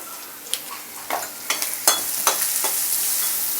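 Garlic, curry leaves and asafoetida fry in a pan with a continuous close sizzle, broken by several sharp bursts from stirring strokes that come at a quickening pace.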